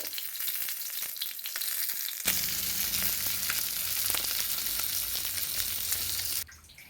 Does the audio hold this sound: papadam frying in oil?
yes